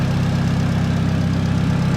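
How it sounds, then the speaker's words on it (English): A Mk2 Scirocco with a rear-wheel-drive 1.8T 20v engine idles smoothly with a steady low throbbing hum, close and continuous with no talk. "see it's idling away nice and smooth now."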